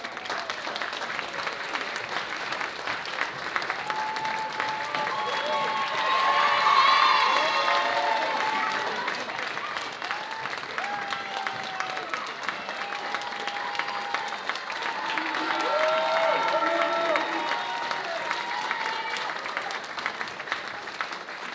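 A school debate team's audience claps and cheers steadily for about twenty seconds, the noise swelling twice with scattered shouts and whoops rising above the sustained applause.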